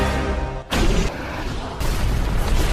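A bomb explodes in the science-fiction film Elysium, a loud sudden blast followed by a sustained rumbling roar, then a second surge of booming noise.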